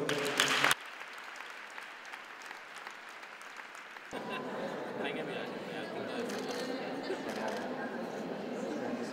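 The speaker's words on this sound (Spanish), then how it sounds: "Un fuerte aplauso." At a school entrepreneurship and innovation awards ceremony in Aragon, a brief loud burst is followed by a quieter stretch. Broad, sustained audience applause then swells back in and carries on, with voices mixed underneath.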